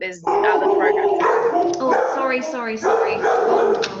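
A dog barks repeatedly and close by, with yips and a drawn-out howling tone, while a person talks over it.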